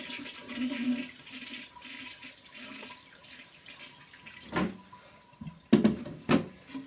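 A household toilet with its tank lid off is flushed, a loud rushing surge and gurgle of draining water that swells near the end, with a few sharp knocks and splashes, and no talking.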